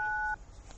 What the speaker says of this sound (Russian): как будто вы на кнопку нажимаете на какую-то, на цифры.